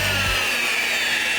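A rotary polisher buffs flat across a car's painted panel, a steady close whirring hum with a constant high-pitched hiss and no pauses.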